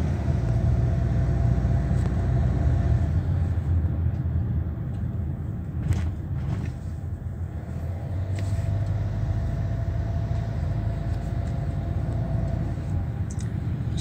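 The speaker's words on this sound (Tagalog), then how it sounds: "medyo traffic na rin." Steady road traffic rumble from cars and a bus, a continuous low broadband drone at close range with passing vehicles swelling briefly, no talk over it.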